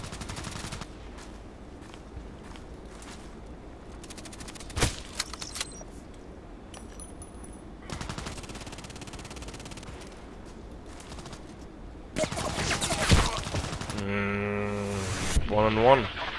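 A first-person shooter match with an SV98 sniper rifle brings sporadic gunshots and bursts of fire, some distant, others sharper, with footsteps and a burst of louder shooting near the end.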